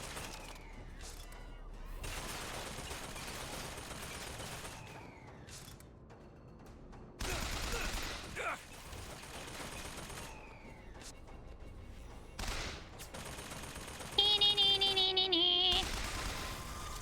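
Gunfire in the shooter game BioShock, with scattered bursts of shots and mechanical clatter over game ambience, a loud spell near the middle and a brighter metallic burst toward the end, no voices.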